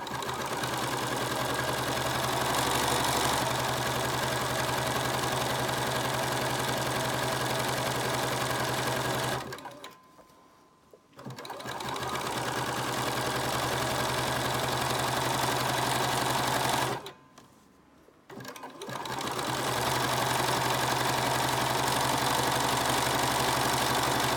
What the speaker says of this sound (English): the beauty of being able to do machine embroidery is that you can go backwards